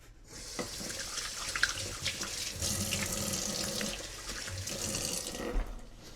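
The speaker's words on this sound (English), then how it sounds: "I'm gonna wash my hands." Tap water runs steadily into a sink as hands are washed, a continuous close hiss and splash with slight surges in flow, and no talking.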